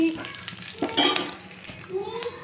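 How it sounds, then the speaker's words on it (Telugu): Cumin, mustard seeds, dried chili and curry leaves crackle in hot oil for a tempering, a soft close sizzle with faint pops and a few utensil clinks against the pan. "జీలకర్ర ఆవాలు అలానే ఒక ఎండుమిర్చి అలానే కర్రీ ఇవన్నీ వేసేసి ఒక్కసారి ఇలా కట్టానంటే పోపు అయితే రెడీ"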